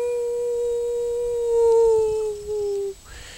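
A voice imitates a werewolf howl: one long, loud tonal wail that holds steady, swells in the middle, then breaks off, heard alone.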